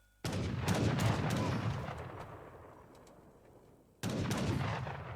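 Bursts of TC unit gunfire in a real-time strategy battle crackle loudly. Dense volleys arrive in two waves with a fading tail between them, and no voices are heard.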